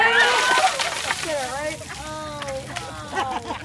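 Ice water dumped from a bucket sloshes and splashes loudly, with the pour trailing into dripping spatter while voices shriek and talk over it the whole time.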